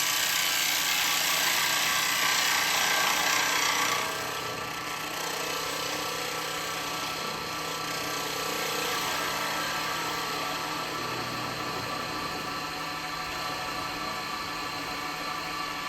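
A traditional turning tool cuts into an ash bowl spinning on a woodturning lathe, making a continuous scraping, whirring hiss that runs loud for the first few seconds and then settles to a softer, steady cut with no talking.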